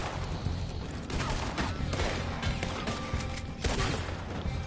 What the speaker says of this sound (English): Next one, shotgun.